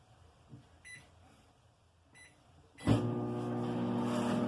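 Microwave oven heating gravy mix: two faint beeps from the control panel, then a loud steady hum as the oven starts running.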